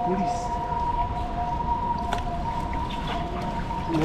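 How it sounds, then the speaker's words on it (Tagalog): An ambulance siren sounds out on a holiday road, a steady wailing tone held throughout at moderate distance beneath background noise, with brief voices now and then. "Ambulansya."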